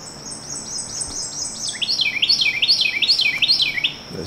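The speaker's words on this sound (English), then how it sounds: "see if I can find the bird." A bird sings a rapid series of high, swooping whistled notes, repeated rhythmically and fairly close, over a quiet outdoor background.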